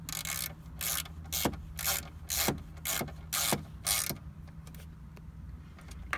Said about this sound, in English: Tightening up the anchor or bracket.